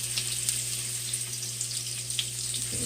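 Daikon radish slices frying like bacon in a pan, a steady hiss and sizzle of hot oil with faint crackles, continuous and close with no talking.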